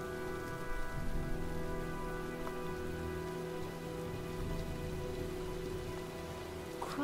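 Steady heavy storm rain in the video game Heavy Rain, a dense constant hiss of drops on surfaces with low rumbling undertones, continuous and fairly loud throughout with no voices.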